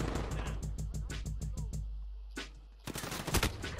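Rapid automatic gunfire from a shooter video game rattles in fast regular bursts, pauses briefly, then a louder burst of shots follows near the end.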